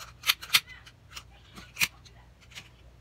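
Scissors trimming the ends of a ribbon on a small craft bow: several crisp, quick snips spaced irregularly, close and fairly loud against a quiet background.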